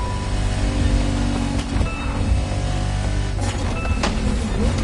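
A BMW Z4 M40i convertible driving on a country road gives a continuous loud low engine rumble and road noise, with a few brief higher-pitched sounds near the end.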